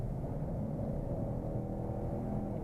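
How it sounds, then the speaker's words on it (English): Low, steady exhaust rumble from a 2017 Nissan Titan SV with a 5.6 liter V8 while driving, a continuous muffled drone heard from inside the cab with no talking. "it does give you that nice V8 rumble"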